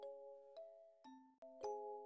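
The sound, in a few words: doorbell ringing sound effect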